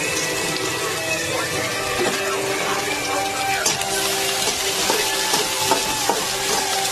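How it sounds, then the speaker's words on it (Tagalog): Onions for chicken curry sauté in oil in a pan, giving a steady close sizzle with occasional scrapes and clinks from a utensil. "So, magigisa na ako ng sibuyas."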